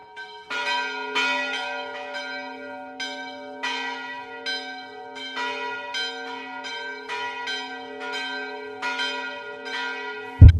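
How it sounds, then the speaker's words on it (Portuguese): A chapel bell pulled by rope rings in a steady series of strikes, each bright, ringing toll overlapping the long hum of the last, close and clear with no voices, ending in a sudden thump. "com impulso, tocar o sino por 7 vezes"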